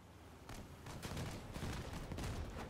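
Rapid bursts of turret gunfire from vehicles in the Crossout video game, a dense fusillade of repeated shots crackling over a constant rumbling battle bed.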